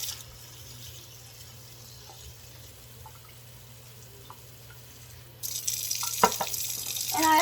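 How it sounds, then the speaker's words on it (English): Fodder seeds are rinsed under a running tap, a soft steady trickle at first that jumps to a louder, fuller rush of water partway through, with a few light knocks. "So we're going to rinse them real quick"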